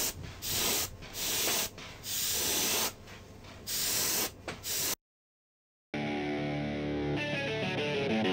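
Bursts of airbrush spray hiss with AK Real Color paint, several separate passes with short gaps between them, close and steady, then a pause and a different tonal sound toward the end.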